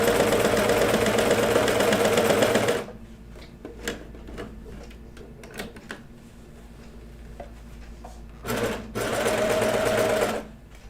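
Sewing machine stitching kid's pajama bottoms, running in a loud steady burst, pausing, then a few short ticks before a second run of stitching.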